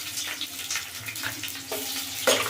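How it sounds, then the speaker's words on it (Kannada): Curry leaves and green chillies hit a hot pan and crackle, giving a close, uneven sizzle with a few sharper pops and bursts across the short stretch. "ಇದನ್ನು ಫಸ್ಟ್ ಫ್ರೈ ಮಾಡ್ಕೊಳ್ಳೋಣ"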